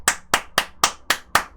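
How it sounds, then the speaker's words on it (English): Six sharp, evenly spaced hand claps ring out close and loud in a quick steady rhythm, with no talking over them. "Guess I can give you a round of applause"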